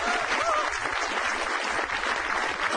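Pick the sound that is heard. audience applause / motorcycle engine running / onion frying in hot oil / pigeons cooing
audience applause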